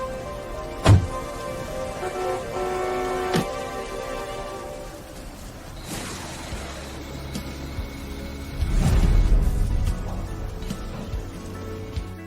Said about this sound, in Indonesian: Aiden, hujan akan deras.